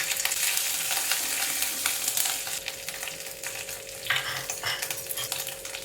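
Ginger and dry red chilli paste spluttering in hot oil in a pan for an aloo potol curry, a steady close crackle with sharper pops and spits throughout, stirring scrapes mixed in, no voices.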